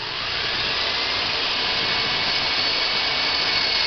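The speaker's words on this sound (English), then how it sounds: "We're going to drill a little pilot hole right in here," A power drill whirs steadily while boring a small pilot hole into an electric heater, a continuous high-pitched motor drone held close and loud with no talking.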